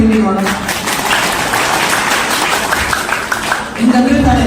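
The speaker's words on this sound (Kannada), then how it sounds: "ಒಬ್ಬರಾದ್ರೂ ಚಪ್ಪಾಳೆ ಹೊಡ್ತೀರಾ, ದಯವಿಟ್ಟು ಹೊಡಿಲಿ ನೋಡೋಣ." Audience applause at a live talk show, a dense, sustained wash of clapping filling most of the clip, with a voice speaking briefly at the start and again at the end.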